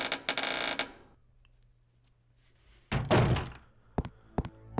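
A door in Resident Evil Code Veronica X opening and closing: a dry creaky rattle, a pause, then a heavy thunk followed by a few sharp clacks, with no talking.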